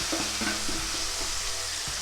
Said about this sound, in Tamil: இப்போ கடுகு பொரிஞ்சிச்சு இல்லையா, இப்போ கருவேப்பிலையை சேர்த்துடலாம்.